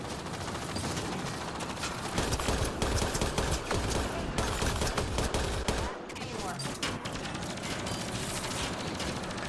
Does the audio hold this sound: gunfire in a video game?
yes